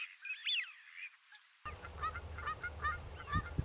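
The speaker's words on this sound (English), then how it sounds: "Small numbers of white-fronted geese linger in early spring, joining resident greylag geese" White-fronted and greylag geese honk on wet marshland pasture in early spring, a series of nasal calls, first clear and nearer, then several overlapping honks farther off over a low rumble of wind or background noise.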